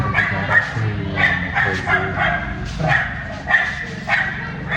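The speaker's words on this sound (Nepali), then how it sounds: "कुकुर भुक्टिन्छ क्या" A dog barks repeatedly at close range, a string of sharp yapping barks at an irregular rhythm with brief whimpering between them.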